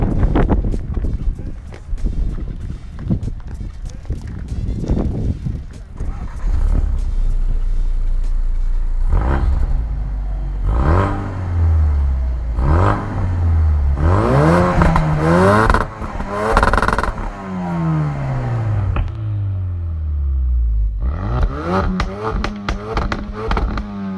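A 350-horsepower four-wheel-drive car accelerates hard, its engine note climbing and dropping in repeated sweeps through the gears, loud and close, with wind buffeting the microphone and a voice speaking over parts of the run.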